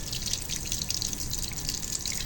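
Rohu fish being rinsed under a running tap, with a steady hiss of flowing water and soft dripping and splashing throughout, fairly close and continuous with no talking.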